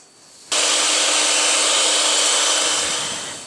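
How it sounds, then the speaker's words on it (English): A hand mixer starts abruptly and runs at a steady high whir while beating an egg white, loud and close, droning continuously and alone before easing slightly toward the end. "So I'm going to try to do this with my hand mixer and see what happens."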